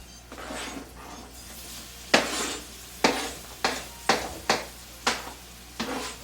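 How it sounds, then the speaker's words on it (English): Strawberries sauté in butter in a pan, a soft sizzle broken by a series of sharp utensil scrapes and taps against the pan, spaced about a second apart. "Now our strawberries are beginning to saute."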